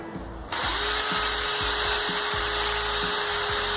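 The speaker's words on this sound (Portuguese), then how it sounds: "Aí só furar." A power drill bores a hole through a wooden slat while building a large adjustable dog pen, starting abruptly after a brief quiet moment and running steadily with a few changes in motor pitch as the bit bites.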